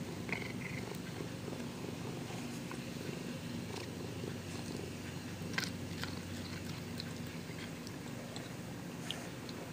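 A cat purrs steadily while chewing pepperoni-topped meat, a soft continuous rumble with occasional faint wet bites and crunches close by, no talking.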